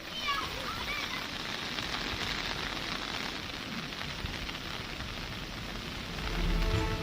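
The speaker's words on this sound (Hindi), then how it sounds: "सिवनी में मूसलाधार बारिश की वजह से बैनगंगा नदी उफान मार रही है।" Torrential monsoon rain pouring down in Seoni, a dense, continuous hiss of rain on surfaces, steady and loud throughout, swelling slightly toward the end, with no voices.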